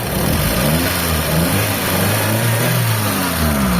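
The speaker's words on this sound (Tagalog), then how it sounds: "Mga bossing, pantay na yung makina niya. Kalmado." Mitsubishi Lancer with a stock 4G15 engine running at a steady, even idle, a continuous close mechanical hum with a low drone that holds level throughout and no talk over it.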